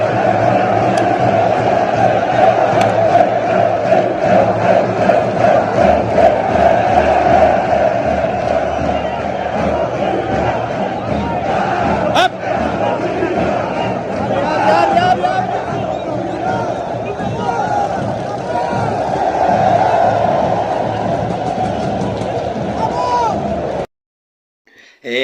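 Vasco supporters packed into a stadium stand roar and chant continuously, a dense, loud crowd wall with bursts of shouting, before cutting off abruptly near the end.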